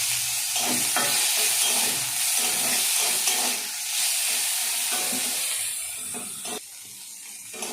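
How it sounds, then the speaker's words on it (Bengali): Loud, steady sizzling of prawns frying lightly in hot oil in a kadai, with occasional stirring scrapes, continuous throughout and no voices. "এই কড়াতেই তেল আছে, এর মধ্যেই আমি চিংড়ি মাছগুলো ভেজে নিচ্ছি।"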